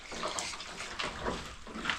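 Water poured for washing at home, splashing in soft, uneven bursts at close range, quiet and without speech.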